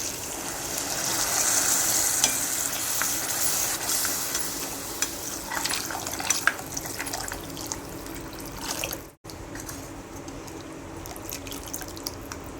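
Water saved from boiling moth beans poured into masala frying in a pan, giving a steady hiss and bubbling with faint dripping and stirring, close up; the sizzle eases after a brief cut partway through.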